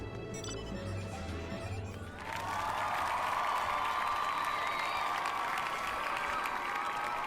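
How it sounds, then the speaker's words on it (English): Dense, steady applause with some crowd cheer swells in after a couple of seconds and holds loud and continuous to the end, played as a sound effect during a live game stream. "I'm gonna applaud for you, because I just want to."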